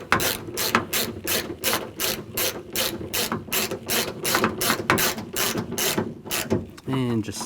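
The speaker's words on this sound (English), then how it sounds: "And just snug those up, not too tight." A hand ratchet snugs the exterior front door handle bolts on a 2007-2014 GMC Sierra 3500, a close, loud run of rapid rhythmic clicking strokes with brief pauses, ending in a short scraping sound.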